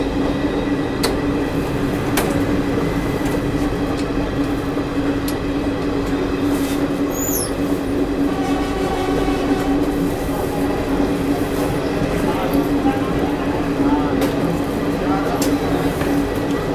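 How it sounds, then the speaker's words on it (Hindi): Garib Rath express train running on the Dhanbad–Jammu route in Jharkhand, a loud continuous rumble of wheels on rails with periodic clicks of rail joints and a brief high squeal, heard from onboard. "अगर आप गरीब रथ ट्रेन में ट्रैवल कर रहे हो तो"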